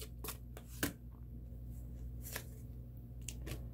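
A tarot deck is shuffled for a love reading, giving soft, close riffling slaps and flicks of cards in quick irregular bursts over a low steady hum.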